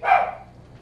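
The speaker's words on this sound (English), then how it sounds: "And there goes a dog." A single short, bright dog bark from a Minecraft dog, close and clear, quickly fading with nothing else around it.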